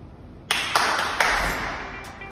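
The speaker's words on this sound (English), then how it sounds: "Let's see how many claps can I do before I catch the ball." Four sharp hand claps in quick irregular succession between throwing and catching a ball, close and crisp with a little room echo, no talking.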